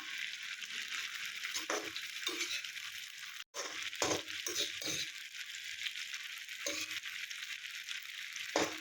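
Ivy gourd coated in masala sizzles and fries in hot oil, with a steady crackling hiss and a few clinks of a utensil against the pan.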